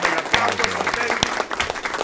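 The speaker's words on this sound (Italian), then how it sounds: "un bel applauso" Studio audience applause welcomes a guest on an Italian talk show, a dense burst of clapping close and loud, with a voice speaking over it.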